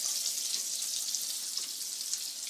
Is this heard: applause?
no